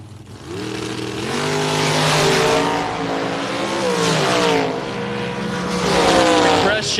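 The Watson McDaniel dragster launches down the drag strip at a bracket event, its engine roaring and revving loudly in rising sweeps, with tire shake, as more engine noise builds behind it.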